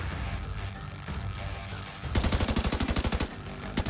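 Automatic gunfire in The Division 2 video game, a muffled mix of game sounds giving way to a rapid burst of evenly spaced loud shots, then a final single shot, close and without talk.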